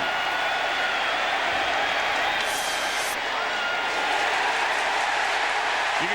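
A stadium crowd roars and applauds after a touchdown at an NFL game between the Patriots and Dolphins, a dense, sustained wall of cheering under a commentator's talk.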